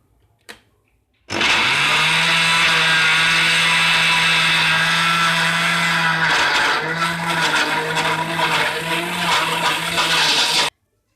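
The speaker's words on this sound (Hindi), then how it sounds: "अब इसे ग्राइंड कर लेंगे" Electric blender grinding mango pieces with icing sugar and milk in a jug: a loud, steady motor whir that starts abruptly after a brief knock, holds for about nine seconds with slight pitch dips, then cuts off sharply.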